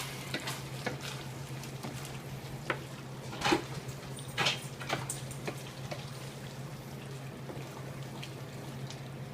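A pan of meat sauce sizzles softly at close range while crushed tomatoes are stirred in, with a few scraping knocks of a spoon against the pan over a steady low hum.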